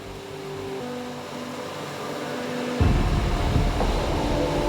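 Atlantic Ocean waves wash against an eroding coastline at Gedda, a broad steady roar of surf that swells louder partway through, with no voices.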